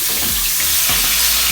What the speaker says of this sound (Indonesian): Ini kita mau goreng.